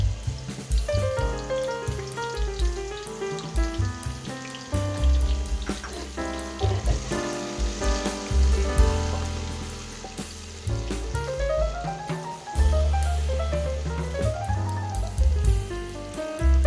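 Chopped onions fry in hot oil for biryani, a continuous sizzle beneath a melodic music track that rises and falls throughout.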